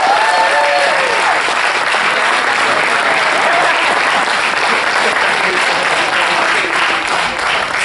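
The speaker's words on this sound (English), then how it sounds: "Applause and congratulations." Loud, sustained audience applause fills a ceremony hall right after an Eagle Scout is pronounced, a dense, steady wash of many hands clapping close by for the whole stretch, with a few voices mixed in.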